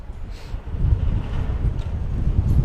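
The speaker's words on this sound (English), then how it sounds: "Very windy day here today." Strong wind rumbles across an outdoor baseball field, low gusty buffeting that rises after a quiet start and keeps pulsing unevenly throughout, with no voices.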